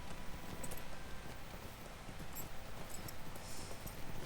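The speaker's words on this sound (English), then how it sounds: "Getting back on my regular horse" Horse hooves clip-clopping at a steady walking rhythm in the video game Lord of the Rings Online, moderately close and fairly quiet, with no talk during the stretch.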